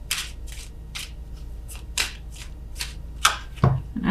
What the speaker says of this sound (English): I'm shuffling extra slow